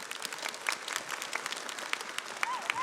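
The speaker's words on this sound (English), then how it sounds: "So if you guys could just give Ryan a big round of applause" An audience at a business meeting gives a round of applause, a moderate, fairly distant patter of many hands with faint voices mixed in.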